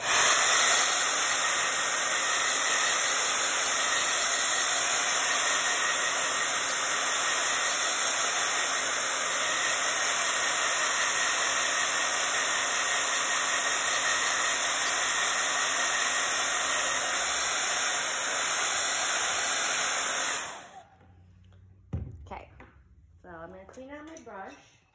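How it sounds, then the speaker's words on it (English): A hair dryer blows loud and steady for about twenty seconds, drying paint, then switches off, leaving quiet room sound and brief talk. "So I'm going to blow that dry so I can move on without waiting."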